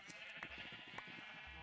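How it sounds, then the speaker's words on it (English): Several sheep bleating in a video game, short overlapping bleats repeating over a steady background hum, moderately quiet. "sorry for all the sheep."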